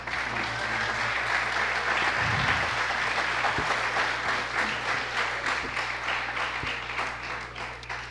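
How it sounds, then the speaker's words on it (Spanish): An audience applauds the director of Preparatoria No. 10 at a school history lecture, sustained, fairly close clapping that runs steadily for about eight seconds with a low background hum beneath it. "para quien pido un aplauso"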